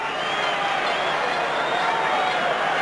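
A rugby stadium crowd at a France versus New Zealand match roars steadily and loudly, a dense, unbroken wall of cheering and murmuring that continues throughout without pause.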